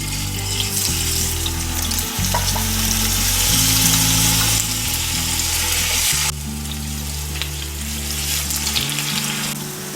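Tofu slices fry in generous oil in a pan over medium-low heat, a close, continuous crackling sizzle with small spits and pops over a low steady hum, no talking.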